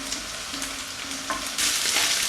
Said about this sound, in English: Fry with the onion for a couple of minutes.